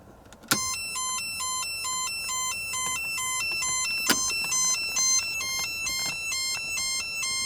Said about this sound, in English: when you turn on the headlights with the car off, it makes a crazy warning chime